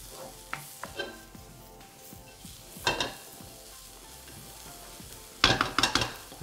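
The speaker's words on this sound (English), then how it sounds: "I'm just going to make sure all of these vegetables are mixed together" Vegetables stir-fried in a hot pan: a steady close sizzle with scraping, clattering bursts of a utensil tossing and mixing the food, loudest near the start, around three seconds and again toward the end.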